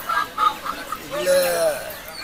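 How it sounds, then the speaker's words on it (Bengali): Short Sonali chicken clucks and squawks at a village poultry market, with a brief voice and busy background chatter. "এগুলা কি জাতের মুরগি?"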